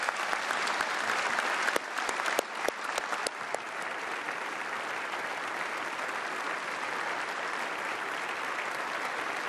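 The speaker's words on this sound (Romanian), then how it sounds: "Veteranii de război au fost scaldați în ropote de aplauze de către europarlamentari." Members of the European Parliament give war veterans a long, dense round of applause in the chamber, with a few sharp distinct claps early on, then a steady, even roar of hands.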